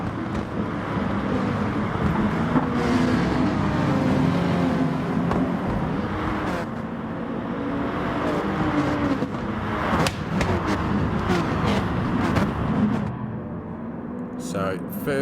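Volkswagen race car engine in the GT Sport racing game, a steady dense engine roar running throughout at consistent loudness, with a commentator's voice talking over it.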